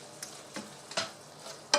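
Ground meat browning for keto lasagna in a very full pot gives a quiet, steady sizzle, broken by several sharp scraping stirs of a utensil spaced about every half second.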